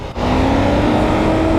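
A motorcycle engine drones loudly and steadily in low gear while climbing uphill, close to the mic, its rising pitch holding as the engine labours, with no talking.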